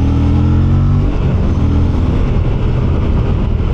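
A 2024 Aprilia RS 457 with a 270-degree firing order revs up loudly close by, the engine pitch climbing in a steady rise before settling into a rough, throaty exhaust rumble.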